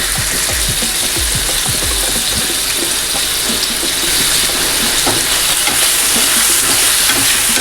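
Ginger garlic paste frying in a pan with softened onion and tomato for a mushroom curry, a loud continuous sizzle with scattered stirring clatter, no voices.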